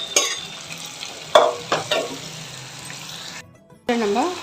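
Mutton for chukka sizzles in a pan as a spoon scrapes and stirs it in a few sharp strokes, with a quiet gap before a voice briefly speaks at the end.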